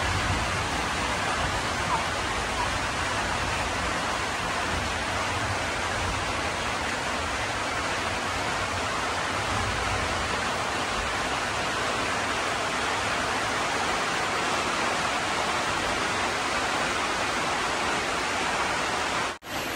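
Heavy rain and wind lash a mountainside in a dense, steady roar that stays loud and unbroken for the whole stretch, with no voices over it.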